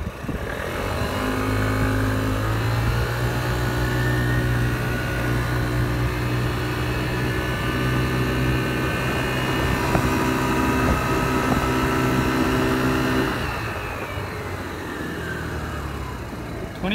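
An Aprilia SR50 scooter fitted with a big bore performance kit accelerates at full throttle, its buzzing engine note rising steadily in pitch with wind rush, then easing off near the end.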